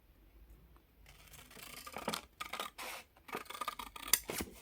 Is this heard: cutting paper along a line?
yes